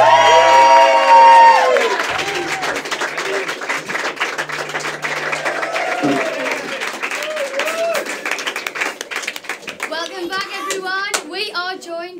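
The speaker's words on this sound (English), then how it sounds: "Ladies and gentlemen, put your hands together one last time for Kilday!" A crowd claps and cheers loudly, with children's voices and excited shouts mixed into sustained applause that continues throughout.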